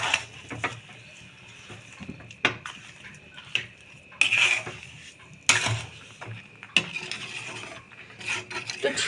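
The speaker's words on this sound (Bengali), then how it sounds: "চিনিটা দিয়ে খুব ভালো করে জলপাইয়ের সঙ্গে মিশিয়ে নিতে হবে" Sugar being stirred into olives in a pan for a sweet-sour olive chutney: a spoon scraping and clinking against the pan in irregular strokes, close by, with occasional sharper metallic knocks.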